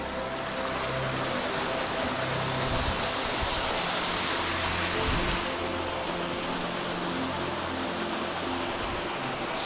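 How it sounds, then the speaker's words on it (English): Steady broadband rushing of the waterfall at Gordale Scar fills the scene, a constant roar with slight swells, fairly close and loud, no voices. "Just want to show you the waterfall."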